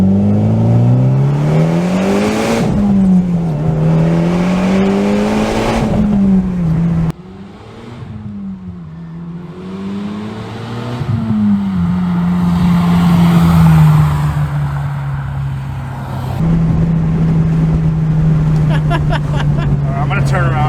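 Mitsubishi Lancer Evo X GSR, once abandoned and brought back to running condition, driving with its engine rising and falling through gear changes and revs, loud and close, while people talk over it.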